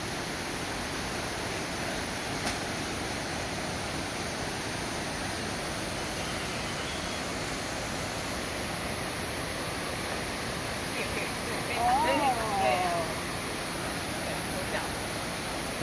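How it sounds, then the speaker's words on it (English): Fairy Waterfall in Taiping, Taiwan pours steadily as a broad, even roar of falling water throughout, with a voice rising briefly above it near the end. "The waterfall is here,"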